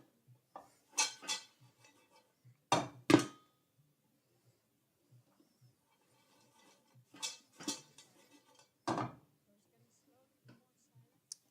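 Popcorn kernels in a pot near the end of popping, with a few scattered sharp pops and clinks separated by quiet gaps of several seconds.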